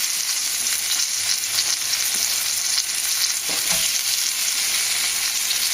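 Breaded tilapia fillets pan-frying with a steady, dense sizzle that runs throughout, with a few soft scrapes of a spatula near the end and no talking.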